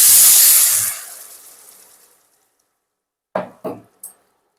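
Hot water poured into a pan of potatoes cooking with poppy seeds, bursting into a loud sizzling hiss that slowly fades away, followed after a pause by three short clanks of utensils.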